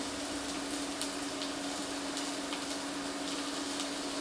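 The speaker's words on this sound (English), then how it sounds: "I'm just going to put the onion in my pan, and we're going to brown our onion." Chopped onion frying and browning in a pan gives a steady, even sizzle with a low hum underneath and a few faint pops, continuous and without any talk.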